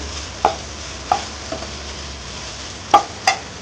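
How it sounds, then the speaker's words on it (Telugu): Ginger garlic paste fries in a pan for prawn curry under a soft, steady sizzle, while a spatula stirs it and taps the pan a handful of times, close by and with no talking. "అల్లం వెల్లుల్లి పేస్ట్ పచ్చివాసన వెళ్ళేంత వరకు కాస్త మిక్స్ చేసుకొని బాగా"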